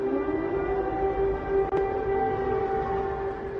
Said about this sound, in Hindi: यूक्रेन की सुबह लगातार खौफ के बीच अलर्ट करते सायरन से होती है